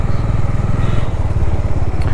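A Bajaj Dominar 400 motorcycle rides along with its engine close and loud, a throbbing low-pitched thrum with slight clatter and crackle.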